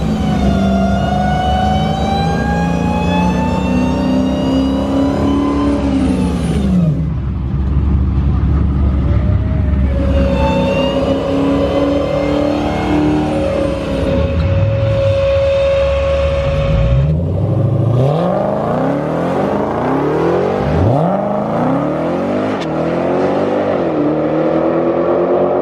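A Dodge Challenger Hellcat at a drag racing track revs repeatedly, loud engine swells rising and falling in pitch with gaps between bursts, close by and forceful.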